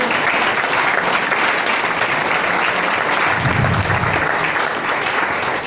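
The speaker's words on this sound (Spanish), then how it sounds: "Así que dale un fuerte aplauso al Espíritu Santo que está aquí con nosotros." A church congregation claps together in a steady, loud wash of applause, continuous and even from start to finish, with no speech over it.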